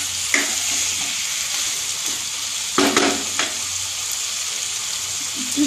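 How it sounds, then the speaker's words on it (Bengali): Vegetable curry is uncovered and stirred in a pan: a constant close sizzle with a few scraping and knocking strokes of a spoon, loudest in a brief clatter midway. "আমি আবার খুলে আবার নাড়াচাড়া করে"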